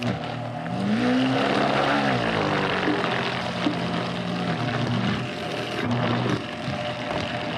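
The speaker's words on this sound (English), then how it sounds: "We'll start this at a low speed." A Vitamix blender running at low speed to mix chip dip gives a loud, steady motor whir with a rising tone early on, continuous and without talk.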